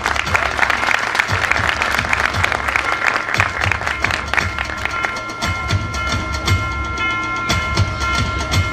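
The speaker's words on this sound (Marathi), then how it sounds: "माननीय प्रसाद गावडे सर, जोरदार टाळ्या व्हायला पाहिजे यांच्यासाठी." An audience at a Konkan awards ceremony applauding honoree Prasad Gawde, dense sustained clapping from a crowd that thins slightly toward the end.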